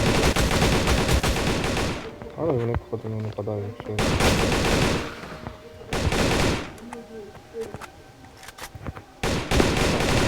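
Bursts of rapid automatic gunfire in the game Darkest Days alternate with someone talking, loud, close and punchy shots.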